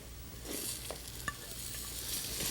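Peas are added to rice, beans and vegetables sautéing in ghee with spices on a stove, with a steady close sizzle and scraping stirring throughout.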